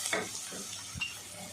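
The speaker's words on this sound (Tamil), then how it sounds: "இது எல்லாமே எண்ணெயில் நல்லா வதங்கட்டும்" Ginger and garlic sauté in oil in a home kitchen pan, a faint steady sizzle with a soft stir and a light clink of a utensil; no talking.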